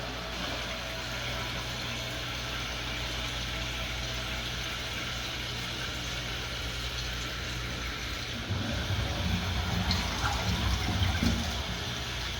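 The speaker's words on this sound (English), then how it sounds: "Now we can turn on the valve here, and we can fill it up." Water rushes steadily into a toilet tank through a newly installed Korky fill valve, a constant hissing flow that gets a little louder and more turbulent toward the end.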